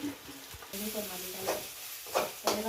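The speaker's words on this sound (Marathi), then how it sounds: "आता यामध्ये टमॅटो टाकते टमॅटो चांगलं तळून घेऊ आपण मऊ सुट होईपर्यंत तळून घ्यायचं आहे" Tomatoes frying in a pan with ginger, coconut and garlic paste, a soft sizzle broken by bursts of stirring and spatters, fairly quiet and without voices.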